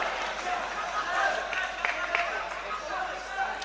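Supportive crowd at an AMMA Championship MMA bout cheering for fighter Abdusalimov, a broad roar with scattered claps and shouts spread across the arena, steady and moderately loud throughout.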